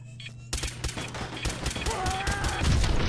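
Rapid gunfire in Fallout 4, a dense volley of sharp shots starting after a brief quiet moment, loud and close, with a few tonal game effects mixed in and a heavy low boom near the end.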